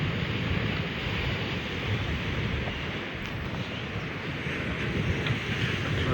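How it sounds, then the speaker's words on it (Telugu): Stormy sea waves surge onto a coastal road during a cyclone near Kakinada, and strong wind buffets the microphone. The roar of surf and wind is steady and broad, with no clear individual crashes. "ఇక్కడ చూడండి అలలు ఎంత పైకి వస్తాయో. రోడ్డు మీదకి పడుతున్నాయి వాటర్."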